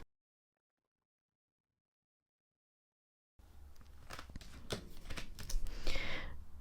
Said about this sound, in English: Let me just pull through my other cards.